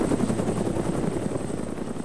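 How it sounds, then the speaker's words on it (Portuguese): In Arma 3: DayZ, a helicopter thunders close by with a steady, dense rotor chop and engine roar that fill the whole stretch. No one speaks over it. "eu tô escutando um helicóptero aqui perto"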